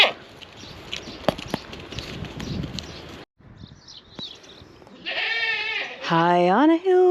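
A goat bleats close by on a coastal walking route, a long wavering call followed by a second louder, strained bleat, after earlier stretches of outdoor background and rustling.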